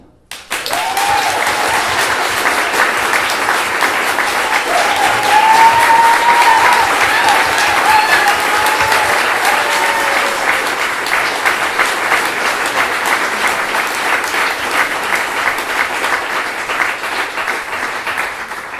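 Audience round of applause at a performance, sustained dense clapping that swells and holds for many seconds before easing slightly, with a few brief cheers or voices in the crowd.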